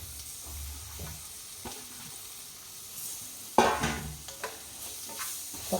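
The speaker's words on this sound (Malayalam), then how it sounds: "എല്ലാം കൂടി ഇളക്കി യോജിപ്പിച്ചിട്ട് കുറച്ച് സമയം വേവാൻ വെക്കുക" Tomatoes frying in a pan for an elambakka (clam) roast, stirred with a spoon: a soft continuous sizzle under intermittent scraping strokes, with a sharper clatter of stirring partway through, close and moderately quiet.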